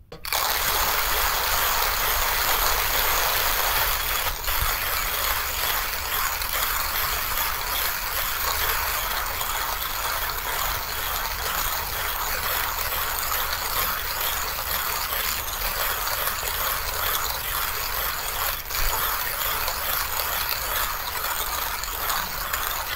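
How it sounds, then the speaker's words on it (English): Hand coffee grinders, the 1Zpresso ZP6 and X Pro, cranking through beans in a continuous rapid ratcheting, gritty crunch, close up and steady for the whole stretch, without talk. "So we'll time each grinder, and then we'll get a feeling for how they grind, the speed, and the ergonomics."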